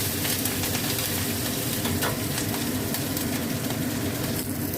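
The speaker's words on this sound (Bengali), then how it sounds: "এই জিরে সর্ষে গোটা গরম মশলা শুকনো লঙ্কা ফোড়নে দিলাম" Cumin, mustard seeds, whole garam masala, dried chilli and curry leaves sizzle in hot oil, a steady loud crackle and spit that runs without a break from start to end.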